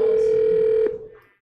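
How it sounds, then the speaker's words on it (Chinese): A telephone ringback tone sounds while a prize winner is called during a lottery livestream: a single steady electronic tone that holds for under a second and then fades out, with no talking. "来看看陈小姐会不会接电话呢？"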